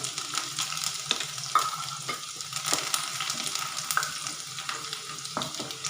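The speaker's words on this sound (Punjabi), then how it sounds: "ਰਿਫਾਈਨ ਆਇਲ ਗਰਮ ਹੋ ਚੁੱਕਿਆ ਹੈ ਤਾਂ ਹੁਣ ਇਹਦੇ ਵਿੱਚ ਪਾਵਾਂਗੇ ਸਭ ਤੋਂ ਪਹਿਲਾਂ ਲਸਣ ਬਰੀਕ ਕੱਟਿਆ ਹੋਇਆ" Finely chopped garlic fries in hot refined oil for a tadka, a steady close sizzle with a few light taps and scrapes of stirring.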